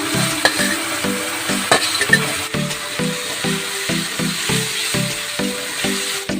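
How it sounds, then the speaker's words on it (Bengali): Potatoes and a spice paste sautéing in a pan for soya curry, giving a steady close sizzle broken by a regular run of stirring scrapes and knocks, with no talking. "মশলাটা আমি কষিয়ে নিলাম।"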